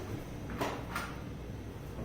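A locked door in a Lincoln Park house is tried. Two quick, muffled rattles of the handle or latch come about a third of a second apart over a steady room hiss, and the door does not open.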